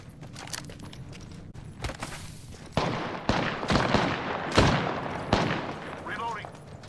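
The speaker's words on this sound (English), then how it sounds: "I'm getting shot." Gunfire hitting the player in an Apex-style battle royale game: sharp bursts of shots and impacts crack out at irregular intervals over a busy background. The shots grow louder and denser toward the middle of the clip.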